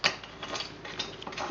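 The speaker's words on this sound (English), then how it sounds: "while we install the bolts, we're going to torque them down to 35 newton meters once again" Torque wrench ratcheting as crankshaft cap bolts are tightened on an Onan B43G engine, a close, rapid run of small dry clicks and ticks that keeps going with no talk.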